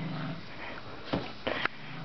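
A dog makes brief low sounds, a couple of short sniffs or grumbles rising over a steady indoor background hum.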